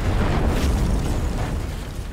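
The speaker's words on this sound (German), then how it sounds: "Die Mumien-Explosion, wer kennt sie nicht?" A mummy explodes in the video game Strange Brigade, a loud, dense, rumbling blast that sustains as a steady roar for about two seconds with no pauses.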